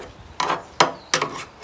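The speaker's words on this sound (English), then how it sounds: "just with an old chisel that I sort of sharpened up a bit on my grinder, and going around and getting as much of this seam sealer off as I can" An old chisel, sharpened on a grinder, scrapes seam sealer off a Mazda RX-7 car chassis in four short, rasping strokes at close range, with no one talking.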